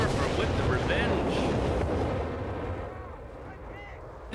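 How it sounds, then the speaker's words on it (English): Nebelwerfer rocket artillery in Company of Heroes 3 fires a loud rush of launches and blasts, thick rumbling bursts in the first half that fade to a lower, quieter roar toward the end. "Nebelwerfer with the revenge."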